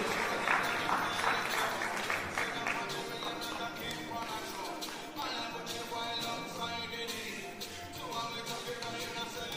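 Continuous applause at a graduation ceremony, a full room of clapping that carries on steadily, moderately loud and reverberant, with some voices faintly mixed in.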